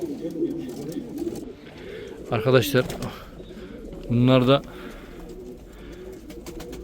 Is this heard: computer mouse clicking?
no